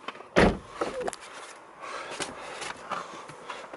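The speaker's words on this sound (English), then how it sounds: "Okay, just shut the door." A BMW 320 diesel M Sport's car door shuts with one solid thump near the start, followed by quiet cabin rustling and small handling noises.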